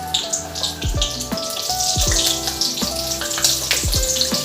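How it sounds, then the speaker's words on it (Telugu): Green chillies sizzle and spit in hot oil for making onion samosas, a steady close crackle broken by a few sharp clinks of a utensil against the pan. "ఇప్పుడు పచ్చిమిర్చిని కూడా వేయించుకోవాలి."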